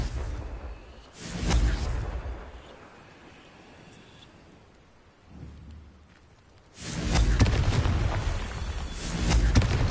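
Two loud, rumbling magical blasts from the Confringo spell in the video game Hogwarts Legacy, each a booming burst with a rolling tail, separated by a quieter stretch with a softer thud between them.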